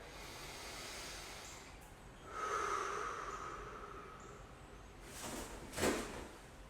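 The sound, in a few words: deep breathing during mobility exercise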